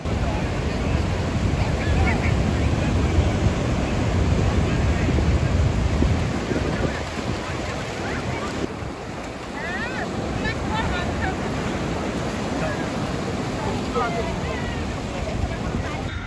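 Surf rolling and washing on a beach in Odisha, mixed with steady wind rushing over the microphone; the roar eases partway through.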